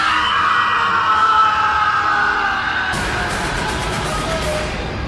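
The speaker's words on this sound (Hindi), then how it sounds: "रजत के गले से एक भयानक दर्द भरी तेज चीख पूरे जंगल में गूंजी" A loud, painful scream echoes through a forest in a horror story, a long sustained shrill cry that breaks into a harsher, noisier burst partway through and continues to the end.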